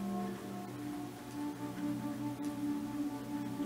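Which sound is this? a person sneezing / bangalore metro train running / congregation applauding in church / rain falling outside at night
rain falling outside at night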